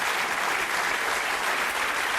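Audience applause on a French TV variety show, a full, even burst of many hands clapping that carries steadily through the whole moment without any voices.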